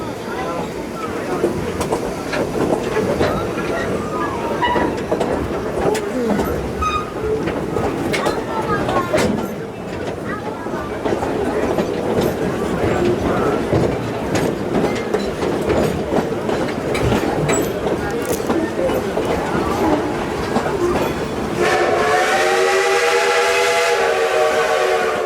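Klondike Katy steam train running at Dollywood, with steady rolling rail clatter and rumble throughout, people talking over it, and a loud steam whistle blast near the end.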